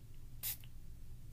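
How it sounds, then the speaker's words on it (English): A handheld spray bottle filled with plain water gives one short, crisp spritz, quiet and close against a faint background hum. "So yeah, I got this spray bottle, which"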